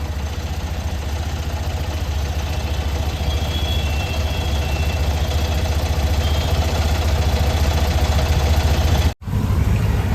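A Tata Nano engine idles with the AC on and worn engine mountings causing heavy vibration, giving a steady low rumble and whir that drones on unchanged, close and loud, with a brief dropout near the end.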